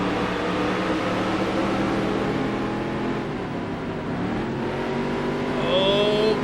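A field of race cars in Dirt to Daytona revs and accelerates at the green flag start, a loud, sustained engine drone with pitch rising as the pack pulls away.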